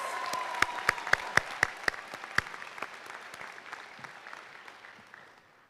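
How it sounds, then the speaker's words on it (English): The graduating class of 2022 applauds at a West High School graduation ceremony, a crowd's clapping with several sharp, close individual claps standing out before the applause gradually fades away. "Let's give ourselves a round of applause."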